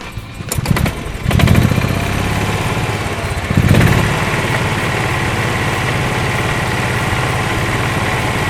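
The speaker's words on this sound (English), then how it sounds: "Now we're going to crank the engine." A small gasoline engine on an E-Z-GO golf cart is pulled over a few times, catches with a surge, then settles into a loud, steady running drone close by.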